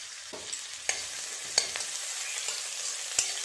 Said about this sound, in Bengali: তেলটা গরম হয়ে গেছে দিয়ে দেবো পেঁয়াজ কুচি